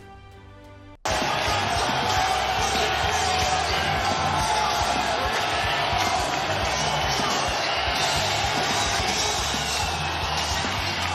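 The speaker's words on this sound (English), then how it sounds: "But the crowd went bonkers for him." A large UFC arena crowd in Newark, New Jersey roars and cheers for Donald Trump, a dense, loud, continuous wall of voices that bursts in suddenly and holds steady.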